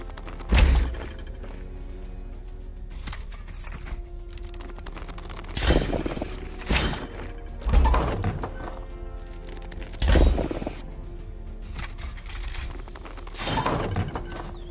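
Artillery fires in the VR strategy game Brass Tactics as a series of heavy, booming blasts spaced a couple of seconds apart, loud against a quiet battlefield background.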